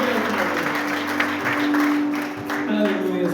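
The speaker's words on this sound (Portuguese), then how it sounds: "Vamos aplaudir o Senhor" A church congregation claps steadily during a worship service, an even wash of applause for the full few seconds with a sustained musical tone humming underneath.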